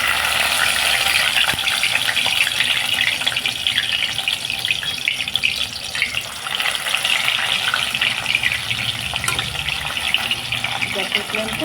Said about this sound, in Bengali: এই যে আমার বড়াগুলো হালকা করে ভেজে নিচ্ছি।